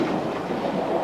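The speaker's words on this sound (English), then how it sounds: "that's the train, you know. Yes, look at us going over the Hawkesbury River." A train crossing the Hawkesbury River bridge gives a steady, loud, close rolling rumble with a dense rattle throughout and no voices.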